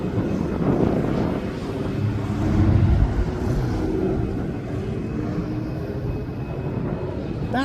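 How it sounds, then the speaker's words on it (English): Jet2.com jet airliner being pushed back at East Midlands Airport, a steady, loud engine roar with a broad rumble that swells slightly midway and holds throughout. "There is another Jet2.com flight that's being pushed back."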